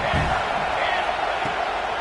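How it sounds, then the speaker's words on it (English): A stadium crowd roars steadily in the NCAA 26 college football video game during a matchup against Texas A&M, a broad, continuous swell of cheering with a play-by-play voice faintly underneath. "this crowd is turning it up a notch."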